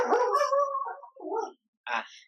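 A husky or German shepherd whimpers and whines in high, wavering tones, with a short pause between cries and a final brief yelp, close to the microphone.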